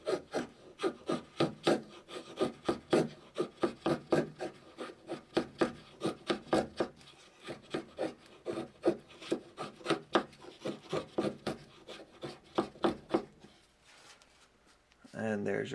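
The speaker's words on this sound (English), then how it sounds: "Here's a look at what it does on just some wood as far as shaving." Schrade SCHA7 folding knife shaving wood, rapid repeated scraping strokes in a quick steady rhythm, close and crisp, slowing near the end with a brief quieter pause before a final rub.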